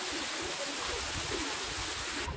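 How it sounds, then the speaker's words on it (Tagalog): Waterfall at Ein Avdat National Park in Israel, a steady broadband rush of falling water roaring close and loud without a break, with no voices over it. "Nandito na tayo sa may waterfalls."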